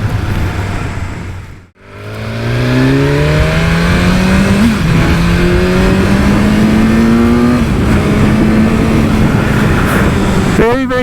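A BMW S1000R naked motorcycle accelerating hard, its engine rising in pitch through several gears in loud, close revving sweeps with brief dips at each shift, and a rider's voice talking over it.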